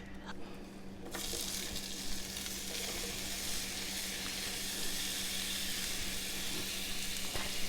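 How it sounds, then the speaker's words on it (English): Peppers sautéing in a hot pan, a quiet start that swells within a second into a steady, even hissing sizzle with a few faint stir clicks. "Let's get our peppers and stuff sauteed."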